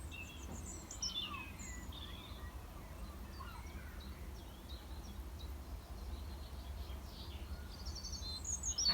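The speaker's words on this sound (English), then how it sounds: "come back to concentrating on the sound of the birdsong" Birds sing at Seaton Wetlands in April: scattered faint chirps and calls, some distant, drift over a soft, constant low outdoor hum with no talking.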